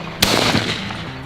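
A Sako S20 rifle fires one sharp, loud crack at a big game rifle range, followed by a brief rumbling decay and quiet background.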